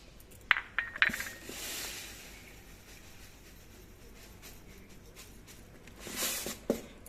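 Dried urad and mung dal lentils handled in a metal bowl for dalma, giving a few sharp clinks and a light rattling pour early on, then quiet, then another brief rattle near the end.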